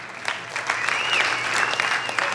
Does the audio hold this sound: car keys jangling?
no